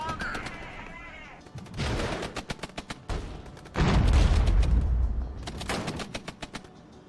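Tank gunfire in the Regiments war game, with rapid bursts of machine-gun-like shots and heavy booming impacts in clusters, loud and close, over battlefield noise.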